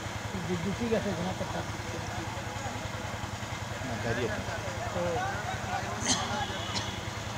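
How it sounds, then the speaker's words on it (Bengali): A generator runs nearby with a steady low mechanical hum and throb under an ongoing religious talk, with people speaking over the drone throughout. "জেনারেটর।"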